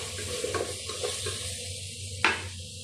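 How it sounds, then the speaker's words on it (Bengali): Shrimp fry in a pan with onion and tomato, a low sizzle under scraping stirs, ending with a sharp metallic clink. "এই যে লাউ, চিংড়ি মাছটা একটু ভেজে নিচ্ছি পেঁয়াজের সাথে।"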